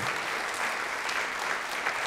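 An audience claps at a live talk, a dense, sustained round of many hands that fills the room evenly from start to finish, with no voices on top.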